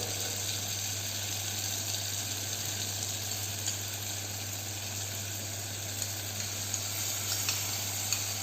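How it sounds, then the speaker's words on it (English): Chopped tomato goes into a pan of onion masala for a basic Indian brown gravy, giving a steady, even sizzle of frying with faint stirring clicks. No one speaks. "Now add chopped tomato."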